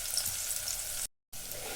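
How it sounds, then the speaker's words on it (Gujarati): Onion frying in hot oil with a steady, loud sizzle, cut by a brief gap of silence, then the sizzle resumes while being stirred. "તેલ ગરમ થઈ ગયું છે એટલે સૌથી પહેલાં હું આમાં ડુંગળી એડ કરીશ અને હલાવી દઈશ"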